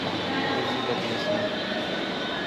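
Train at a railway station, a broad steady rumble and hiss of rolling stock with faint thin wheel squeal, continuous and fairly loud throughout.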